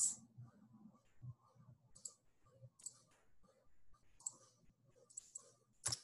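Sharp, isolated computer mouse clicks come at irregular intervals, about six across a quiet office-computer setting, with a faint low murmur underneath.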